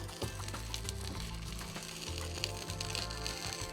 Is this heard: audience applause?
no